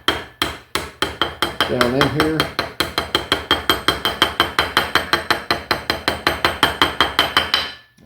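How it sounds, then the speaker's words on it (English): Small hammer lightly tapping a seal into a classic Ford Thompson power steering pump: a steady run of about forty sharp, close metallic taps at a quick even rhythm, with a brief spoken phrase early on. "I'm just going to take a small hammer and lightly tap this seal"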